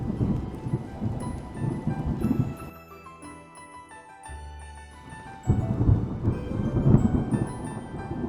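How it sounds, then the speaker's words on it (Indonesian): Storm sound effect with rumbling thunder and rain, a heavy roar that drops away for a few seconds into quieter tinkling tones, then surges back loud. "Tapi ternyata badai juga menyerang daratan."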